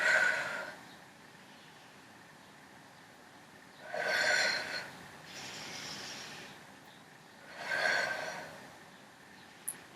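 Three forceful breaths out, spaced about four seconds apart, puff close to the mic during an intermediate mat Pilates ab exercise on the floor, with near silence between them.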